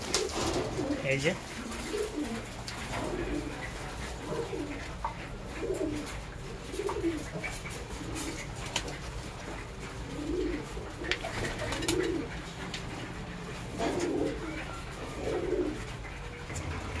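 Pigeons coo in a rhythmic series of soft, repeated calls while being fed during hot-season pigeon keeping, with a voice talking over part of it.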